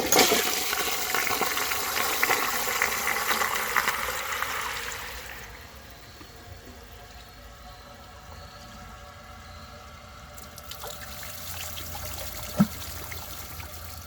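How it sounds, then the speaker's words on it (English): A 1927 Peerless low tank toilet, clogged, flushes with a loud rushing surge of water for several seconds, then drops to a quiet trickle and refill with a sharp knock near the end. "It's clogged, but I'll give it a second flush."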